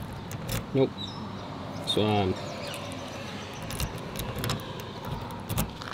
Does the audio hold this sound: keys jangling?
yes